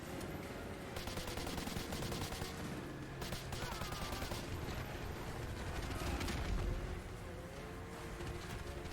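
Gunfire in the video game Modern Warfare 2: dense, continuous rattling automatic fire and mechanical clatter over a busy game soundscape, steady and loud throughout, with no talk.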